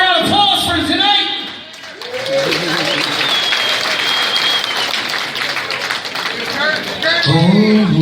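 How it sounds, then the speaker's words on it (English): Audience applause swells at a live boxing night at Michael's Eighth Avenue, a dense sustained roar of clapping from a large crowd, with an announcer's voice heard at the start and end. "Let's have a round of applause for tonight."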